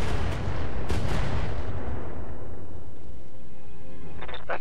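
A heavy weapon shot slamming into mech armor in a BattleTech game: one big, booming impact with a deep rumble that slowly fades over several seconds, ending in a faint metallic rattle.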